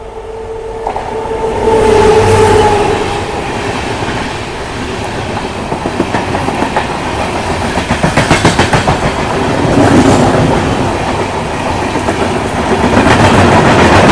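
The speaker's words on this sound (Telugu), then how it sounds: "సో మన ట్రైన్ వచ్చేసి తిరుపతి నుంచి అయితే బయలుదేరిపోయింది" Krishna Express train running on rails out of Tirupati, a loud, steady rolling rumble with rhythmic clickety-clack of wheels over rail joints swelling and easing throughout, close and continuous, with no voices.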